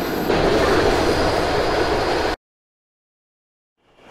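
A subway train departs North Shore station in the openBVE multiplayer metro simulator, a loud steady rumble of wheels and motors lasting about two seconds before cutting off abruptly to silence, with a faint noise returning at the end.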